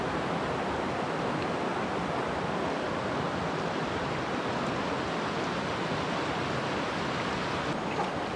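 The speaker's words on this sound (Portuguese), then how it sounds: "Esse rio que está correndo aqui é o rio Jatobá." The Jatobá river runs through a blue canyon near Vila Bela da Santíssima Trindade, a steady, dense rush of flowing water that holds the same level for the whole stretch, with no voices.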